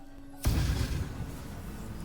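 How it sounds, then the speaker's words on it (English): An arrow of darkness shot in Baldur's Gate 3 bursts out as a sudden deep whooshing boom that fades into a dark, rumbling hiss lasting a second or more. "wants to shoot an arrow of darkness?"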